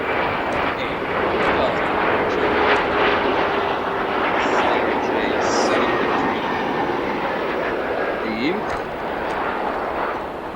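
A CRJ900 long-range regional airliner arriving at O'Hare International Airport, its engine roar broad and sustained over several seconds with steady loudness and outdoor airport ambience.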